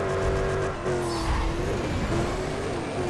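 A McLaren MP4-12C race car in NFS World roars steadily at high revs, loud and close, with a sustained engine tone that dips briefly and then climbs again, heard without any talking.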